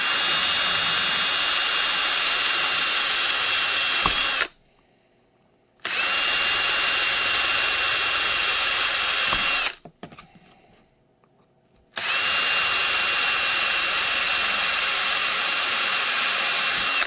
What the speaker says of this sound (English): unless you have a really, really, really sharp bit, which mine's dull as shit, let it cut